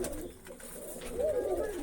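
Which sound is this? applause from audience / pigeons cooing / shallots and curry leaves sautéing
pigeons cooing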